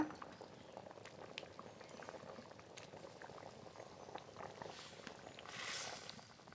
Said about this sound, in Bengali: ঝোল খুব ভালো করে ফুটে গেছে